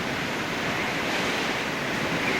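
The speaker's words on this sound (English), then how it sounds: "I hear the bottom of the floor pounding when them waves hit." Category 5 Hurricane Katrina storm waves surge against a house in Slidell, Louisiana, in August 2005, heard as a constant, loud roar of water and wind with no distinct separate blows.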